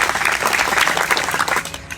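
A crowd at a community gathering claps steadily to welcome a team. The dense, close applause holds even for about two seconds, then begins to thin.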